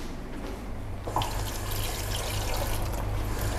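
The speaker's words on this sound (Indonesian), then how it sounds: "Kita mau giling, kita tambah air dulu dikit." Water trickles and splashes as it is poured onto a spice paste of red and yellow seasoning, prepared for grinding into a sour-spicy fish dish; a steady, close liquid pour with a soft onset after a quiet start.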